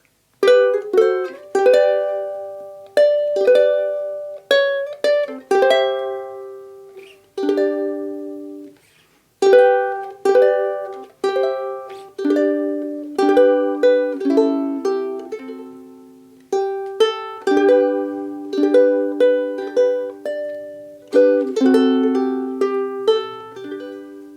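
Two ukuleles, one in high G and one in low G tuning, play the chorus of Hard Times Come Again No More together, with plucked notes and strummed chords moving in slow, clear phrases.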